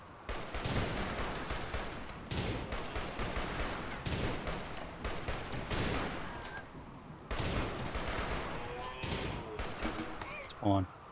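Gunfight in Rimworld, with bursts of rapid gunshots and clattering fire in clusters, fairly quiet overall, ending with a brief sharper blip.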